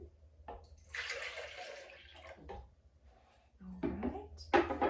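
Two cups of almond milk pour into a container while making dairy-free creamer at home, a splashing, gurgling stream that starts and stops in a few bursts, close and moderately loud.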